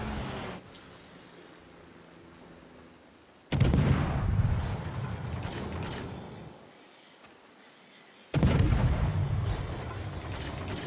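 Naval gunfire in World of Warships during a Daring destroyer match: two heavy booming salvos a few seconds apart, each a loud sudden blast trailing off into a long rumbling decay over a low background drone.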